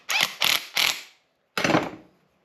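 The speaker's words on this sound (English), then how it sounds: "Now we just tighten the nut on the bottom." A wrench tightens the bottom nut on a door hinge pin of a Mk1 Celica Supra, three quick ratcheting bursts then a fourth after a short pause, close and loud with no talk.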